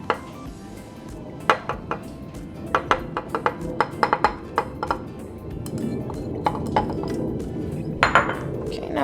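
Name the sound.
mixing cocoa into milks in a bowl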